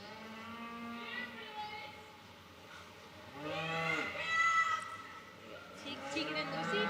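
People at a junior livestock show imitate a cattle call, voicing several drawn-out moo-like cries that swell and fade over a crowded, echoing ring, one louder call near the middle.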